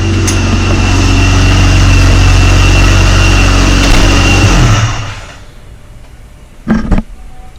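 A supercharged car engine fitted with a Ripp supercharger runs loud and bass-heavy inside a garage with rattling metal, a steady deep roar that cuts off near the end, followed by a couple of brief clunks.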